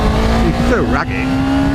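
A Suzuki GSX250R motorcycle engine revved hard, a loud steady drone with a brief pitch swoop near the middle, close by and short, with faint talk mixed in.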